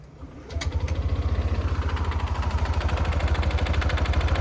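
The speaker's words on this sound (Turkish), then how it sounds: "Motordaki ses de bu arkadaşlar." Yamaha Nmax 155 scooter engine running with an abnormal noise, with water mixed into its oil: a steady close idle with a fast rhythmic knocking pulse throughout after it settles, alone without talk.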